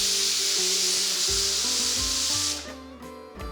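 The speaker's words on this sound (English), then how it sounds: "Close the pressure cooker, and once the steam comes, place the weight and cook for about 4 to 5 whistles on medium flame." A pressure cooker of sweet pongal on a stovetop vents a loud, continuous close hiss of steam that cuts off near the end, leaving low background tones and faint clatter.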